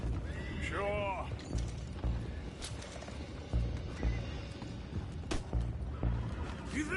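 Horses in Red Dead Redemption 2 let out a loud whinny near the start, with hoofbeats clopping and game ambience carrying on underneath, while characters talk.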